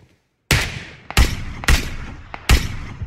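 Four loud, sharp gunshots ring out in a video-game firefight, each a sudden crack followed by a short reverberant tail, spaced irregularly about half a second to a second apart.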